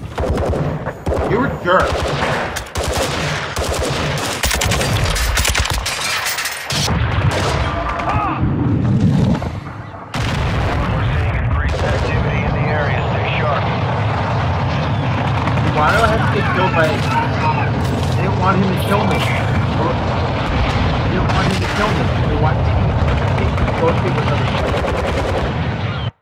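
Sustained gunfire from the Warzone 2.0 DMZ mode, dense bursts and rapid shots filling the scene almost throughout, close and loud, with players talking over the shooting.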